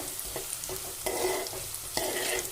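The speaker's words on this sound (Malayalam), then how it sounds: "കുറച്ച് ഉപ്പ് ഇട്ടിട്ട് വഴറ്റിയെടുക്കുകയാണ്, പെട്ടെന്നായി കിട്ടുമേ" Onions sautéing with a pinch of salt in a pan. A continuous bright sizzle runs throughout, punctuated by a few distinct stirring knocks and scrapes nearby.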